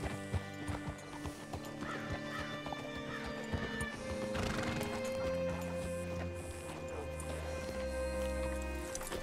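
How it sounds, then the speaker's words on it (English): Horse in the video game Red Dead Redemption 2 whinnying and snorting while hooves clip-clop, with other game ambience and sustained tones underneath and no voices over it. "Hitch your horse up here."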